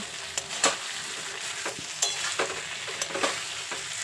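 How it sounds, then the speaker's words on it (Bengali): Papaya and potato stir-fry with ground spice paste for sukto in a pan, giving a soft, continuous sizzle broken by irregular scraping stirs and clinks close by. "এবার বেঁটে রাখা মশলাটা এর মধ্যে দিয়ে খুব ভালো করে কষিয়ে নেব"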